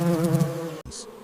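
Large bees buzz near the colony, a close, loud droning hum with a rich pulsing tone that cuts off abruptly, followed by a fainter lower buzz.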